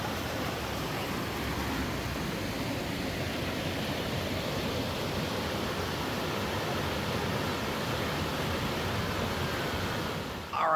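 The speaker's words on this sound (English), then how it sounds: "Beautiful little creek." A small creek in the Gold Creek canyon near Juneau, Alaska flows in a steady, even rush of water, a continuous hiss and burble at moderate level with no talking.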